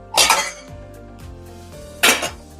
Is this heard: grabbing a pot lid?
yes